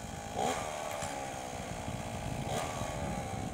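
Power tools run steadily at a beachfront in Nea Iraklitsa as umbrellas and loungers are set up for the season, a continuous whining motor drone with a couple of brief louder surges, fairly close and without speech.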